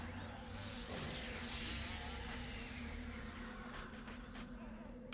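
Steady insect-like buzzing from bixies, bee-like wasps in Project Quarm, a continuous drone at low level throughout with a faint whine on top and a brief knock at the end.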